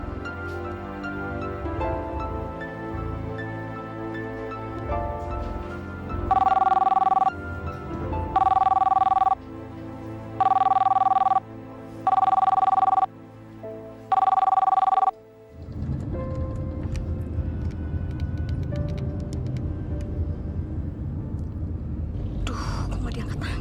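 Telephone ringing unanswered indoors in a drama scene, five evenly spaced electronic rings, each about a second long with short gaps, over quiet low background music, followed by a louder rumbling ambience.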